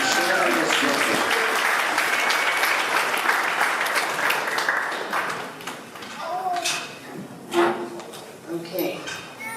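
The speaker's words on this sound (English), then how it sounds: "let's go ahead and give the mothers a big round of applause" Warm applause from wedding guests at a chapel ceremony honoring the mothers of the bride and groom, steady and full for several seconds before thinning out as voices and scattered claps take over.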